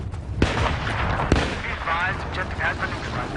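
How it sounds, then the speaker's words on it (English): Two sharp, loud sniper rifle whip cracks ring out about a second apart in the Xbox 360 game Blackwater, over a rumbling battle backdrop with distant chatter and faint tonal sounds underneath. "sniper rifles produce an identifiable whip crack"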